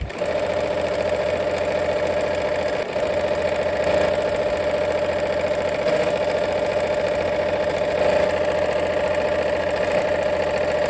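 Sewing machine stitching a quilt block a quarter inch from a drawn diagonal line, a continuous close mechanical whir with a steady rhythmic hum running without pause.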